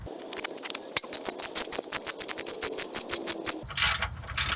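Ratchet wrench clicking in a quick steady rhythm while loosening bumper bolts on a Toyota Camry, close and fairly loud, ending in a brief burst of faster, harsher mechanical noise.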